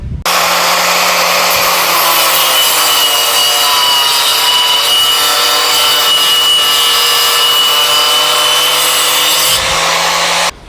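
Angle grinder fitted with a wood-cutting attachment bites into a wooden block clamped in a vise, giving a loud, steady whining rasp that runs unbroken for about ten seconds.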